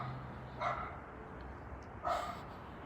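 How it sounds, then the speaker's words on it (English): Two separate barks from a dog, somewhat distant, spaced more than a second apart over a quiet background hum. "What's a loud ass dog barking and shit?"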